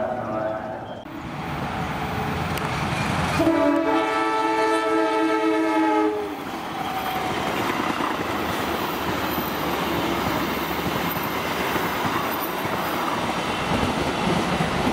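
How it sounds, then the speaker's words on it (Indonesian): The Taksaka passenger train roars past close by, sounding a long, loud multi-tone horn blast near the start, then continuing with steady rumbling wheel and carriage noise. "rekaman kereta api Taksaka tetap dimasukkan ke video ini"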